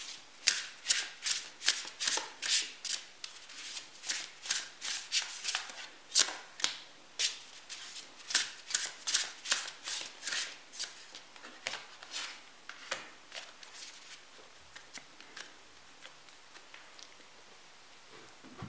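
A deck of oracle cards is shuffled over and over in soft, rhythmic riffling bursts, close and quiet, with a steady patter of card flicks throughout.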